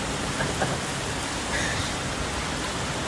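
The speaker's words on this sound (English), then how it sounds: "This hailstorm in Texas was so intense that the hail started coming inside the home." Rain and hail coming down hard during an intense Texas hailstorm, heard as a dense, unbroken hiss of pounding precipitation with no voices.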